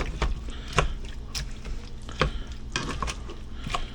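Chopped fruit chunks cooking down in a pan, with steady soft sizzling and bubbling as the juice boils off, broken by a few sharp clinks of a utensil against the pan.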